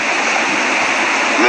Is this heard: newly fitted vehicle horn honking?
no